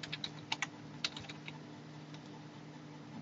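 Computer keyboard typing while a link category is renamed: a quick burst of soft, close key clicks at the start, then fainter, sparser taps fading into a low background hum.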